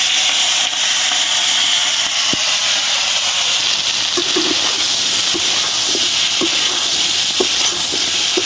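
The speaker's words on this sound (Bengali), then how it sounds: "আগে যে চিংড়ি মাছগুলো সাতলে রেখেছিলাম, এবার এগুলো একটু নরমাল ভাবে ভেজে নেব।" Shrimp fry in a pan of hot oil with a loud, steady sizzling hiss close by, broken by small pops and soft knocks as the pieces shift, with no voices.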